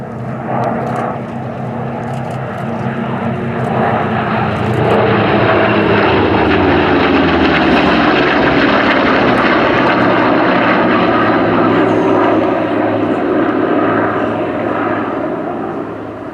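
Warbird propeller aircraft at the Sywell Airshow, about 6,000 horsepower combined, passing overhead: a loud, sustained piston-engine drone swells, holds strong through the middle, then eases slightly, with no voices.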